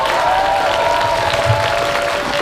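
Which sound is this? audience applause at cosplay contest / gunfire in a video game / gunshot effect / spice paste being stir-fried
audience applause at cosplay contest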